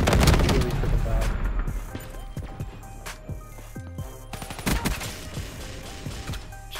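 Rapid gunfire bursts and booming shots from the video game Black Ops 3, loud and dense at the start, then sparser cracks over a steady background din.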